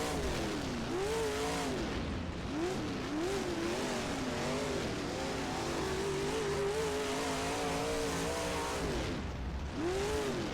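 Simulated race cars in a racing video game roar continuously with engines rising and falling through gear changes, several cars close together and loud throughout, with no talking.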